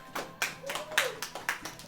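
A handful of people clap briefly, quiet irregular claps at close range with a faint murmur of voices.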